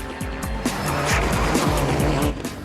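A rally car at the 2004 WRC Monte Carlo Rally slides sideways on a changing road surface, its engine revving hard in loud rising and falling bursts alongside scrubbing tire squeal, close and intense.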